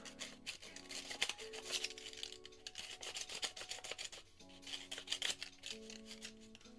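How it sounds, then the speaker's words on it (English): Light rhythmic rubbing strokes of sandpaper on a small Della Duck figure's sculpted hair, soft and close, with a faint tonal hum running underneath. "sanding Della hair."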